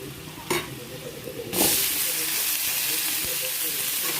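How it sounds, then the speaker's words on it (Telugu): Onions dropped into a hot pan burst into a loud, sudden sizzle after a couple of clinks, then settle into a steady close-up frying hiss. "మనం ఆనియన్స్ వేసుకొని ఫ్రై చేసేసుకోవాలి"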